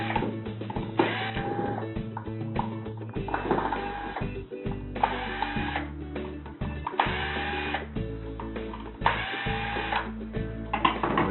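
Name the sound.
cordless drill removing screws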